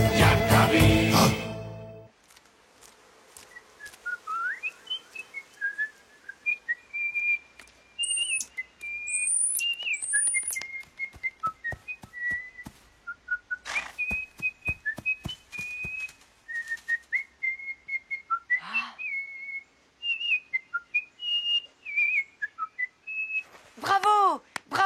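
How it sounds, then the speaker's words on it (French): Animated cartoon bird in a forest singing a long melodic whistled song of rising and falling tones with quick trills, alone after a brief burst of music, with a few sharp accents near the end. "de tous les oiseaux, tu es le meilleur chanteur de la forêt"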